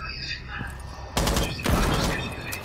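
A sudden burst of gunfire in a first-person shooter game cracks out loud, followed by a second volley, with players talking over the game.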